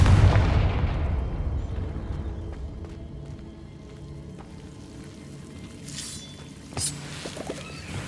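Confringo fire spell from Hogwarts Legacy bursting as a loud explosive boom at the start, followed by a long crackling, sizzling decay with scattered pops and a smaller flare near the end; no voices.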